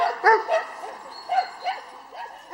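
Dogs at a canicross trail-running event bark and yip in close, repeated bursts, several short barks spaced irregularly with some whiny tones.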